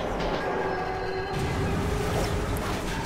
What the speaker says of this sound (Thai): นี่มันรถไฟผีฮะ